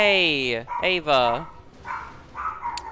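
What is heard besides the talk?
dog barking and whimpering after waking up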